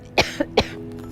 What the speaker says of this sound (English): You've been coughing a lot.